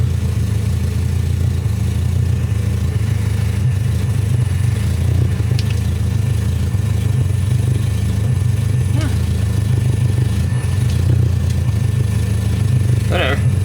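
A 1994 Nissan Hardbody D21 truck engine idles roughly up close, a steady low rumble running through the whole stretch while someone talks over it.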